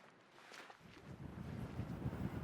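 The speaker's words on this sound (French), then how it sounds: "C'est difficile de rester debout dans le vent." Strong wind blows across open land by the sea, a low buffeting rumble that builds and gusts against the microphone, with no speech.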